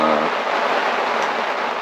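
Rain from the remnants of Hurricane Debby falls steadily in a dense, even hiss, loud and close, with a voice briefly audible at the start.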